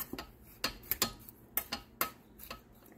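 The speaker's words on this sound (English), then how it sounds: "you can hear that straw-like sound when you're going through" Dry, straw-like rustling and crisp ticks of spent chamomile and calendula herbs being stirred through infused oil, a series of sharp close clicks and scratchy bursts at uneven intervals with no talking.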